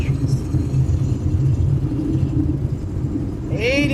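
Thrust reversers of an Airbus A320neo (Toliss model, X-Plane 12 simulation) roaring in a steady, loud low rumble during landing rollout at 80 knots, with a brief rising whine near the end.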